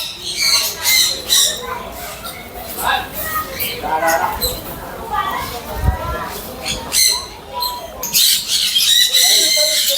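A group of three or four colourful birds squawk and chatter in busy, overlapping bursts while taking grain from an outstretched hand at a bird park in Kerala; the calls are close and loud, with a short lull midway.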